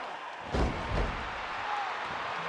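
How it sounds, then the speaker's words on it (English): In a wrestling ring, a wrestler lands an elbow drop: two heavy thuds on the mat about half a second apart over a steady crowd murmur. "And a beautiful elbow drop."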